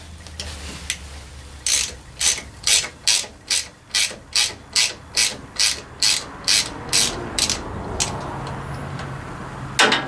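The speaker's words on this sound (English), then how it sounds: "So now I just got to take this nut off right here" Ratchet wrench loosening a nut on a 1985 Chevy K10 truck, a steady run of about fifteen sharp, close clicking bursts in even rhythm, alone with no talk.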